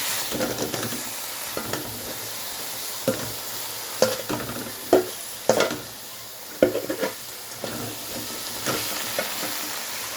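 Spinach frying in a pan with spiced chili masala, stirred repeatedly with a utensil, giving a steady close sizzle broken by scraping clacks as it is turned.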